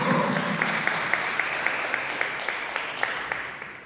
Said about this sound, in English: give a round of applause for our guests that have joined us today